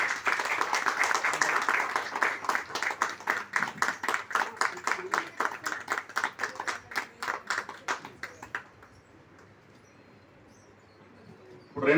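An audience applauds at a book launch event, dense rhythmic clapping that thins out into scattered claps and fades to quiet room noise.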